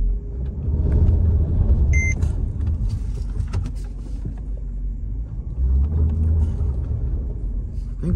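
A 2010s-style Mercedes-Benz CLS 550 AMG bought cheap at auction pulls away, its engine a low steady rumble inside the cabin, with a brief electronic chime and faint handling clicks; a voice speaks quietly at moments.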